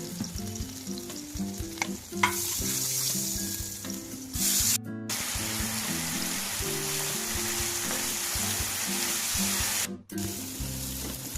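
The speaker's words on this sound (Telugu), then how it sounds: "ఇందాక మనం ఫ్రై చేసుకున్న ప్యాన్లోనే పన్నీర్ కూడా ఫ్రై చేసుకుంటున్నాం." Paneer cubes fry in a pan with a steady, close hiss and sizzle. Light stirring and occasional clatter from the utensil run through it for the whole stretch.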